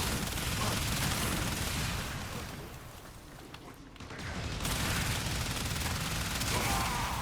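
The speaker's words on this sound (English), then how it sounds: "And I hate these freaking machine guns." Sustained rapid machine gun fire from the video game Warframe, loud and dense throughout, dipping briefly in the middle before resuming at full intensity.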